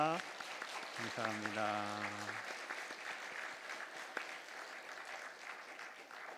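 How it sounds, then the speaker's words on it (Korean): A church congregation at a Korean worship service applauds in a steady, moderate patter. The applause rises after a brief spoken thank-you and carries on under a voice. "우리 감사와 격려의 박수를 하겠습니다."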